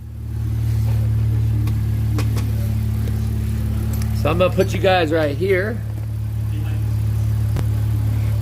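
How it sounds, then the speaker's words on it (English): Engine of a BMW X5 SUV tuned to about 700 hp idles with a steady low rumble throughout, close and loud, while someone talks briefly partway through. "I need to move the SUV out of the way"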